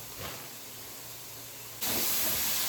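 Tomatoes frying in a pan make a soft, steady hiss that jumps abruptly to a much louder, brighter sizzle partway through, with no talking.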